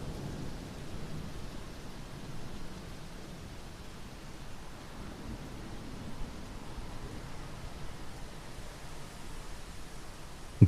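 Steady rain falls with low, distant thunder rumbling underneath. It stays soft, even and unbroken throughout, with no voices.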